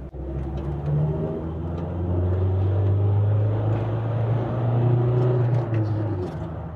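A 2013 Volkswagen Transporter van with a 2.0 TDI diesel accelerating, its engine drone rising in pitch and loudness inside the cab before easing off near the end, with faint cabin noise underneath.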